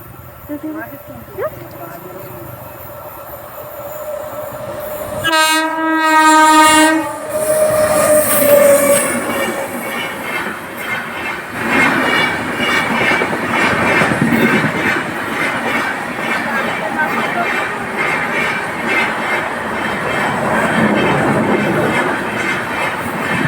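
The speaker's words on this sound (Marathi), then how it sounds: "या ठिकाणी आता रेल्वे येणार आहे" A train passes a railway crossing in an Indian town, with a loud horn blast followed by the steady rumble and clatter of the wagons rolling by close to the listener. Background noise continues throughout.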